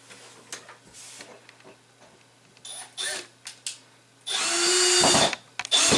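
A power drill drives screws to fix a closet rod track, with short whirring bursts and then one longer, louder run near the end, while a person talks between them.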